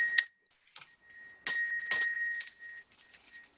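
Two bright bell chimes ring out in sequence, clear and sustained, with a steady high ringing tone lingering between and after them.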